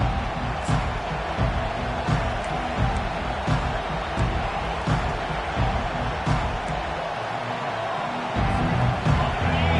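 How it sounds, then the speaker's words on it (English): Football stadium crowd at an American football game roaring as a dense, loud, continuous wash of cheering that fills the whole stretch. "This crowd bringing an ear-splitting welcome to their visitors."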